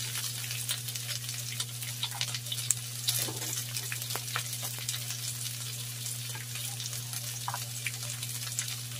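Carrots dropped into a hot pan for sweet and sour tilapia, a steady close frying sizzle with a low hum beneath and a brief stirring clatter partway through, no voices.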